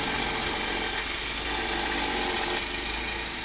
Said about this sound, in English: Dad's snow blowing.